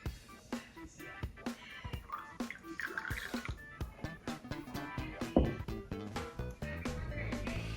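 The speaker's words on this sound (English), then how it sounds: "So I'm going to pour this out." Panna cotta mixture poured from a jug into jars on a kitchen scale, a close liquid trickle with glugs, drips and small clinks of glass in an uneven rhythm.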